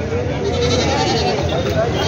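Goats bleating amid the crowd at a roadside goat market in Vasmat, Maharashtra, with continuous background chatter and market bustle throughout.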